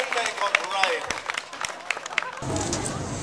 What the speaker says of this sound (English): Lots more applause for our monarch for the day.